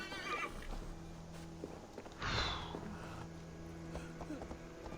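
A horse in the video game Assassin's Creed Valhalla whinnies loudly mid-clip amid clip-clopping hooves and snorts, over a steady in-game ambient drone, with faint background sounds.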